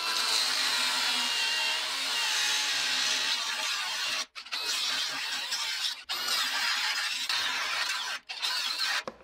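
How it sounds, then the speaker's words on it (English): Cordless battery-powered grinder without a safety guard cutting metal on a pull-behind aerator on a cold morning, a loud steady whine that cuts out abruptly three times before restarting. "no safety guard on the grinder."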